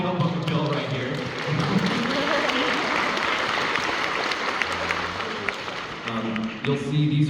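Audience applause at a live animation talk in London, a steady wash of clapping sustained throughout with some voices mixed in over it.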